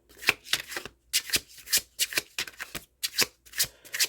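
A deck of tarot cards is shuffled up close, with quick crisp riffling bursts repeating in an uneven rhythm and short pauses between them.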